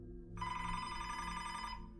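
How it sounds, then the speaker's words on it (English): A desk telephone in a small police station gives a single steady electronic ring lasting about a second and a half, clear and alone. "His phone was ringing at his desk"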